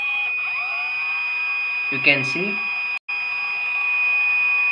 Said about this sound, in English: buzzer is sounding, and TFT shows the system fault